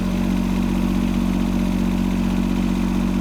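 A tractor engine runs steadily and loud up close while plowing icy, slick snow, a constant mid-pitched drone with a faint clatter and no break.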